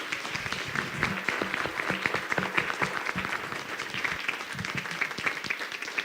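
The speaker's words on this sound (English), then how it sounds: "a very big round of applause for yourself." A conference audience claps in sustained, dense applause at the close of a session on lakes and wetlands biodiversity, steady and fairly loud throughout with no speech over it.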